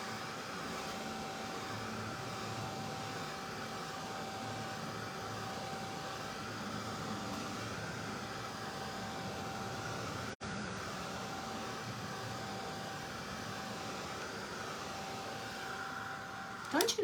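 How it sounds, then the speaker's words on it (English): A small, quiet craft heat dryer blows steadily on a decoupage Christmas door hanger with a soft, even whoosh for a long stretch, briefly cutting out once before resuming. "Don't you love this dryer? It's so quiet."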